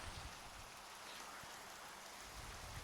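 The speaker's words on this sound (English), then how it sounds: "Let's get rid of this rain." Steady rain falling across a video game world, a continuous soft hiss of drops with faint low patters underneath, even in level and with no voices.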